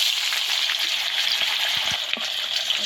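Tuna fish pieces fry in hot oil, producing a close, steady bright sizzle with small crackles and pops throughout the short stretch, with no voices.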